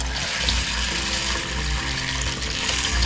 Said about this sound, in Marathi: याच्यामध्ये आता आपण भरपूर पाणी घालून घेऊया